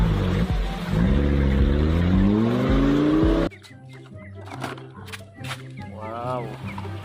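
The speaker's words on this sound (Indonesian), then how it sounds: "Wow, ada mobil monster." Toy monster truck engine revving in a loud, rising, sustained roar that cuts off abruptly, followed by quieter clicks and a short whirring sweep.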